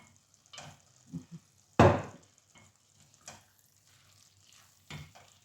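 Spinach stirring and frying in a pan: soft intermittent sizzles and scraping stirs, with one louder burst of frying near the middle and a few quieter scrapes around it, close and otherwise quiet.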